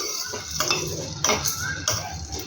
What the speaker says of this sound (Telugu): ఇప్పుడు వీటన్నిటిని లో ఫ్లేమ్లో పెట్టేసి బాగా ఫ్రై చేసుకోవాలి.